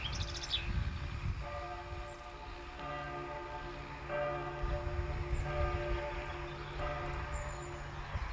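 A steam train on the North Norfolk Railway rumbles past with a long, steady horn sounding several times, heard from a moderate distance, with a few faint bird chirps.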